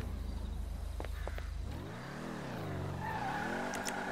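A car engine in GTA 5 Online, running without a custom exhaust, hums and revs steadily, with a brief tire squeal near the middle before the pitch sweeps up and down as it accelerates.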